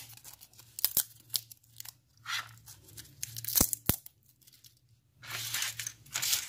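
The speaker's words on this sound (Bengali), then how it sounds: "আমি এবার এই পাতাটিকে কুচি কুচি করে ছিঁড়ে নিয়ে" A single bay leaf torn into small pieces by hand, heard as several short dry rips and crinkling bursts separated by pauses, close and fairly quiet, with no voices.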